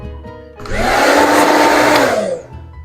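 A blow dryer drying hair roars on steadily for about two seconds at close range, loud and whooshing, then cuts off.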